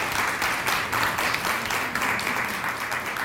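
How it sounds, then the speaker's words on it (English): Audience members clap together in a steady, moderately quiet round of applause with a rhythmic, pulsing texture and no talk. "if we could give them a round of applause for the community that they've built here"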